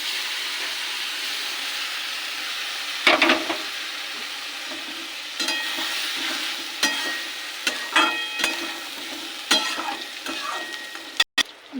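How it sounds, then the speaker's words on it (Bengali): Lentils for tarka dal drop into sizzling masala in a pan with a sudden loud hiss. The frying then carries on steadily, broken by repeated sharp scrapes and clatters of stirring, with no voices. "কষানো হয়ে গেছে, এবার ডালটাকে দিয়ে দেবো।"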